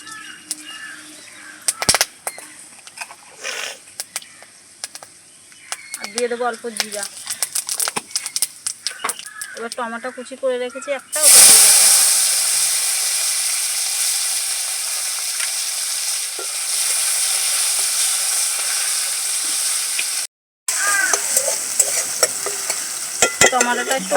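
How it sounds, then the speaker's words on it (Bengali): Bay leaf, dried chilli and whole garam masala hit hot oil in a pan, bursting into a loud, steady sizzle after some earlier stirring and clatter, holding strong for about ten seconds with a brief break. "তেলের মধ্যে দিয়ে দিলাম তেজপাতা একটা শুকনো লঙ্কা আর গোটা গরম মশলা"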